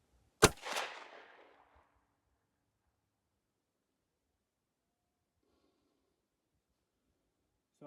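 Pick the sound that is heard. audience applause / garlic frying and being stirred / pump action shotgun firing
pump action shotgun firing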